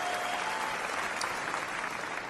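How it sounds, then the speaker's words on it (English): An audience claps through a political speech. The applause is dense and sustained, holds at an even level throughout and is heard alone. "I'm skipping through all of the claps."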